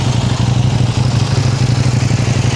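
A CF Moto motorcycle engine idles close by, with a steady, even low-pitched throb that pulses quickly and unchanged throughout, and no one speaking.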